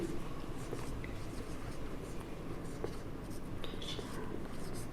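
Chalk or marker writing on a board during an accounting lesson, short scratchy strokes close by over a steady room hum, with a faint voice in the background.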